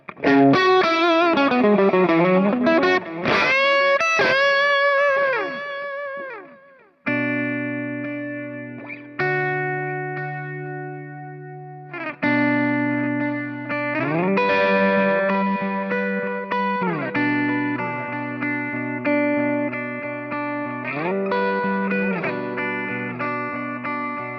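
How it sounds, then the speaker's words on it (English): Overdriven electric guitar lead through a Dr Z amp profile on a Kemper, playing sustained singing notes and bends with a thick distorted tone and effects, loud and continuous with a short pause midway. "I like this profile for like a lead thing for overdriven"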